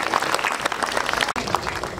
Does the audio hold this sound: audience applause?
yes